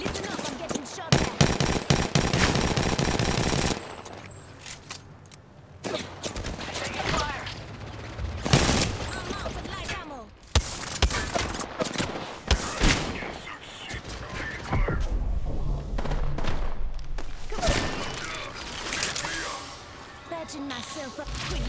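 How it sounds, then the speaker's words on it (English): Bursts of automatic gunfire and rapid shots crackle through an Apex Legends match, loud and nearly continuous with brief lulls, layered over in-game sounds and voices. "Contact with hostile. Listen up, I'm getting shot at."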